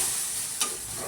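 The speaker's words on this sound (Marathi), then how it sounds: "ऑमलेट पलटी मारते," An omelette frying in a pan, with a steady hiss of oil throughout and one brief soft thump partway through as the omelette is flipped.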